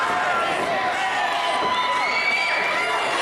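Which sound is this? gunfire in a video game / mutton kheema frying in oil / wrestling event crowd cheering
wrestling event crowd cheering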